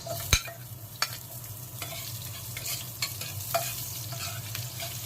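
Onions sautéing in hot oil in a home kitchen, a steady close sizzle with a utensil scraping and stirring the pan, sharp clacks now and then, and no voices.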